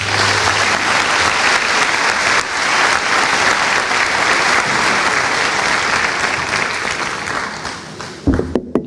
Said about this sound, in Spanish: para el que pido un fuerte aplauso